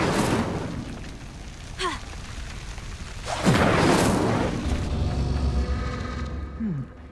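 Incendio fire spells are cast in the Hogwarts Legacy video game as a few loud whooshing bursts and rumbling booms over a steady roaring background, with short spoken calls between them.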